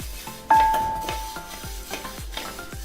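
Vermicelli stirred and roasted in a pan over low heat, with a steady soft sizzle broken by repeated scraping strokes of a spoon about twice a second, close up with no talk.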